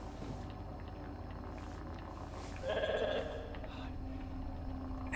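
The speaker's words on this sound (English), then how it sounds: "I'm gonna pet my sheep." A sheep in The Alters video game gives a short bleat midway through, heard over a steady low game ambience with no talking.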